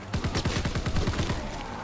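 Rapid bursts of gunfire ring out in a zombie shooting game, a quick string of sharp repeated shots like a machine gun firing for nearly two seconds, loud and close.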